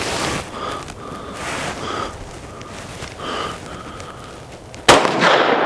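A 9mm Scorpion submachine gun, fired one-handed like a pistol, lets off one sharp, loud report near the end after a stretch of quiet breathing and handling noise.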